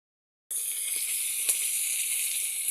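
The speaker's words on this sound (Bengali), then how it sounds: "আর এটা ভাজা করব কাঁকরোল, আর সঙ্গে আছে বটবটি ভাজা" Spiny gourd (kakrol) frying in a pan in a home kitchen: a bright, even sizzle bursts in after a short silence and holds steady and close, with a few faint pops and no speech.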